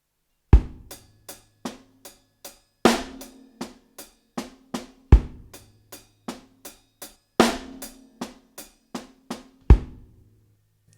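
A drum kit plays a linear groove in 6/8, single kick, snare and hi-hat strokes never striking together, in a steady rolling pattern with accented hits roughly every two and a quarter seconds, close and alone with no talk.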